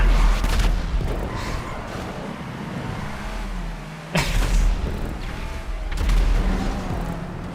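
Rockets fire and burst in a racing game, with a sharp loud blast in the middle and heavier booms on either side over a steady engine and rumble, close and dense with no speech.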